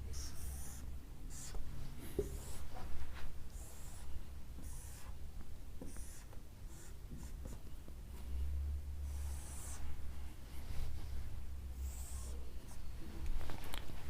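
Pen or marker drawing a plain slab layout by hand, soft scratchy strokes in uneven bursts, close and faint, with light breathing now and then.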